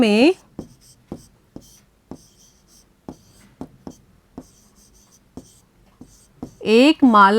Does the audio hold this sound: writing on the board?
yes